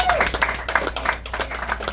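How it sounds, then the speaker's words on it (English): Audience at a stand-up comedy show clapping in a brief, scattered burst of hand claps, moderately loud and lively. "Clap if you love Prince. Clap if you like Prince."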